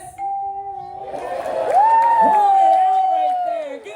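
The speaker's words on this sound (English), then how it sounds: "Give him a round of applause, everybody!" A game-show crowd cheers loudly, a sustained whooping voice rising over the din, with a few claps mixed in for several seconds.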